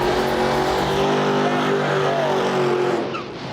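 A 1974 right-hand-drive Nissan Skyline, a crazy car build at grudge-run drag racing, revs loudly and up close in a sustained, rising engine note that falls off near the end.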